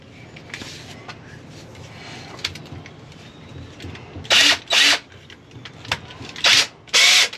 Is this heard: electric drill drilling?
yes